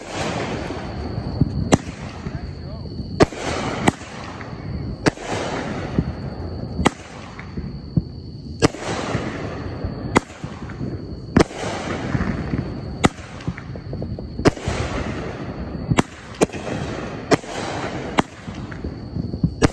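A 200 gram firework cake called Broken Heart by Winda, an eight-shot item, firing a run of loud, sharp booming shots spaced a second or two apart, each with a short crackling tail, heard from fairly close outdoors.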